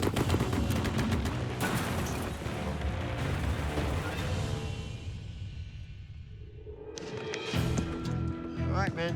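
Two short bursts of gunfire are aimed at a clay pot outdoors, a loud dense roar of rapid shots filling the air, with voices in the mix.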